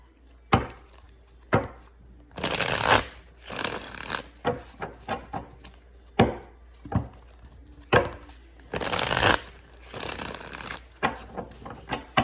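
An old, worn deck of tarot reading cards being shuffled by hand, an irregular run of close, fairly loud flicks, slaps and papery rustles in short bursts, with no talk.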